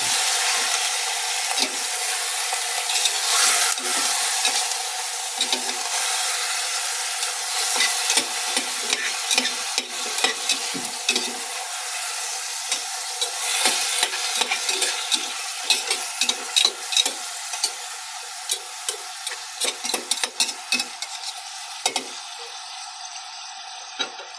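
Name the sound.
chicken meat cooking in pot, drying out its own juices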